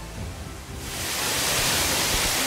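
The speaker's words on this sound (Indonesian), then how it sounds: "Ini dia air terjun tingkat paling atas di mana akan ada canyoning" Waterfall at the top tier of a canyoning site on Wawonii Island, Southeast Sulawesi: a quieter rush at first, then a loud, steady broadband roar of falling water that stays close and constant.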